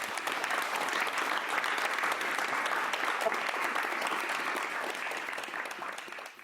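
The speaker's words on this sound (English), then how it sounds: "let's give him a warm round of applause" A seated audience at a talk on Buddhism gives a warm, steady round of clapping, moderately loud and continuous for several seconds before it tapers off.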